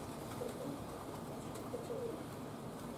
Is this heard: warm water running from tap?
no